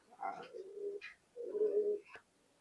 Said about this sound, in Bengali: দেখেন কবুতর দুইটা দেখেন, একদম সুন্দর স্ট্যান্ডিং এর কবুতর